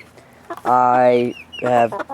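A chicken clucks close by, two drawn-out squawking calls separated by a short pause.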